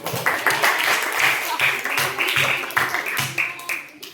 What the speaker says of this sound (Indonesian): tepuk tangan untuk kita semua nih